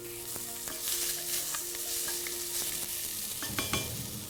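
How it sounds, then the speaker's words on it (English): Onions fry in butter in a hot pot with a steady, close sizzle, broken by the scrape and clink of stirring near the end. "I'm going to put some onions in here, a little bit of butter, just a little bit."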